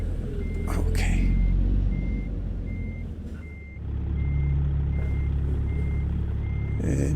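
A Kenworth T680 truck in American Truck Simulator backs up with a steady series of evenly spaced reversing beeps over a low diesel rumble, air brake hisses breaking in near the start and end.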